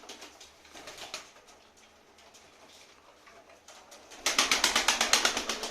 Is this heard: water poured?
no